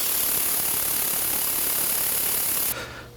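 A metal lathe spindle spins at about 250 RPM with a steady, broadband mechanical whir and grinding hiss, then cuts off abruptly near the end, leaving a low hum.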